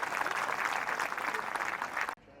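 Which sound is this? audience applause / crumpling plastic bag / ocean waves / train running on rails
audience applause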